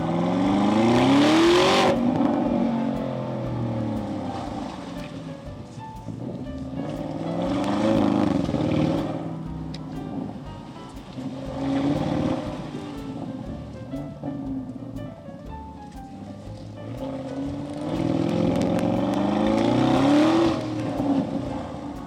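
A 4-liter twin-turbo V8 making 500 horsepower in an Audi with an 8-speed automatic roars through repeated surges, engine tone climbing and dropping through gears over about twenty seconds, loud and close.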